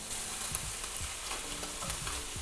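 Guanciale frying in a pan gives a constant close sizzle, with light crackles and occasional stirring scrapes through the short stretch.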